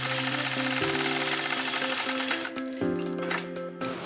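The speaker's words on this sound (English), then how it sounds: "I'll stitch another line. And I'll stitch it really just as far as I feel like" A domestic sewing machine stitches a straight quilting line through a modern improv flying geese border, a steady close mechanical whirr that pauses briefly and restarts with a slight change in pitch.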